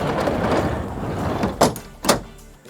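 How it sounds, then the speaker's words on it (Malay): Tailgate of a 2021 Isuzu D-Max X-Terrain pickup lowering softly on its damper, a smooth rushing movement ending in two soft thuds close by, with no talk. "Dan untuk pintu dia ni pun ada damper. Turun pun lembut, naik pun senang."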